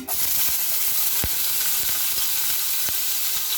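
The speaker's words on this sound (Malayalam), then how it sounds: "നമ്മൾ ഈ എണ്ണയ്ക്കകത്തേക്ക് 2 പച്ചമുളക് കൊത്തി അരിഞ്ഞത് ചേർക്കുന്നു." Chopped green chillies sizzle in hot oil in a pan, a close, steady hiss with a few soft stirring taps, cooked as part of a Kerala-style fish cutlet.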